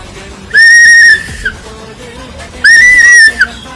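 Two loud, shrill whistle blasts, each held about a second with a slight warble, separated by a pause, close and clear over faint background noise.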